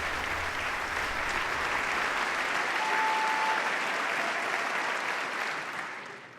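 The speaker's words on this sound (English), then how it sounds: "Oh, let's get up and clap again." A large audience in the chamber applauds steadily during the State of the Union address, a dense, sustained wash of clapping that holds loud throughout and tapers slightly at the end, with no voices over it.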